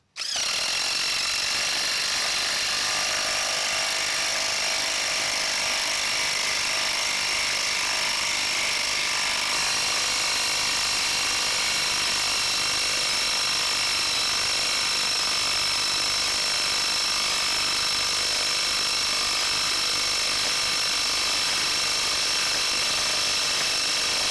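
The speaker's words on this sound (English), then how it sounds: "We got our impact wrench." A DeWalt impact wrench drives a fastener down into treated 6x6 timber, a loud, continuous, high-pitched rattling hammer that runs unbroken for over twenty seconds at close range, with no talk.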